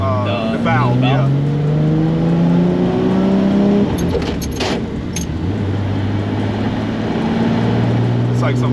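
A Toyota Soarer 2JZ attack car with over 800 wheel horsepower revs hard, its engine tone climbing and dropping between gear shifts, loud and close. People talk over it.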